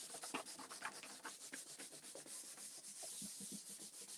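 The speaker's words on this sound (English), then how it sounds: "So this is the next step I'm doing. I'm just rubbing that on here." A product, applied after a cream step and meant to seal the surface, is rubbed on by hand in close, soft strokes with a steady rhythm of brushing friction throughout.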